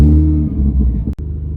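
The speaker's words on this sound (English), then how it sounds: "It almost sounds like I have an exhaust leak." A car engine idles roughly with a suspected exhaust leak, a loud, close, low rumbling drone with a pulsing throb that briefly cuts out near the end before resuming.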